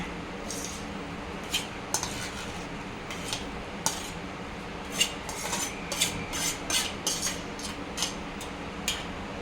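A spoon scrapes and clinks against a pot while mashed potatoes are stirred into chickpea curry, with irregular metallic taps over a soft simmering background and no talking.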